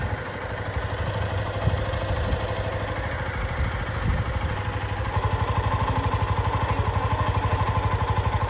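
A motorcycle engine idles close by with a steady, rapid mechanical chugging and rattling throughout, growing slightly louder and more pulsing partway through.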